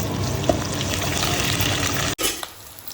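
Onions, curry leaves and ginger-garlic paste frying in a pan for egg semiya upma, a loud dense sizzle that cuts off sharply near the end and gives way to a quieter hiss; no talk.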